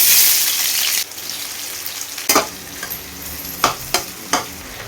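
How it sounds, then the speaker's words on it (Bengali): Onion frying in hot oil in a wok starts with a loud sizzle that drops away after a second, then quieter frying with a few sharp scraping stirs and clicks, with no voices. "কড়া বসিয়ে দিলাম, তেলটা মোটামুটি গরম হয়ে গেছে, আমি এর মধ্যে পেঁয়াজটা দিয়ে দিচ্ছি"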